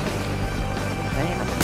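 Gunfire in the video game Battlefield Hardline: shots crackle inside a dense, steady wash of game noise, with a sharper burst near the end.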